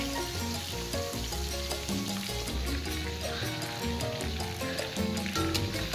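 Chicken leg pieces fry gently in a pan over a low flame, giving a soft continuous sizzle beneath tonal background music, with no speech.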